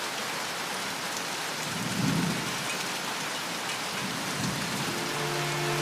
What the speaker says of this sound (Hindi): अचानक बारिश शुरू हो गई